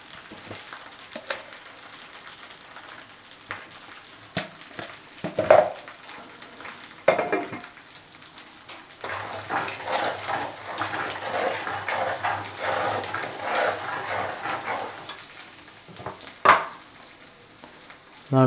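Spices frying in hot oil in a pan for a prawn pickle give a steady low sizzle with scattered metal clinks and scraping stirs, loudest in the second half, with no voices.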